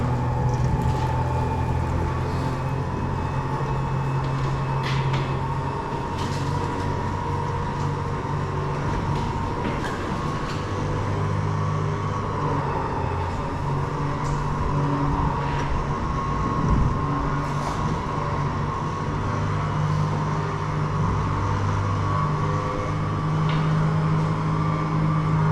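A 1967 Pontiac Grand Prix convertible, a rare car driven again, rolls onto a trailer. Its engine gives a steady, unbroken low rumble and drone close by for the whole stretch, with no voices.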